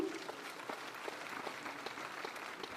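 Audience clapping at a civic felicitation ceremony for the President in Lucknow, a soft, even patter of many hands heard faintly from a distance.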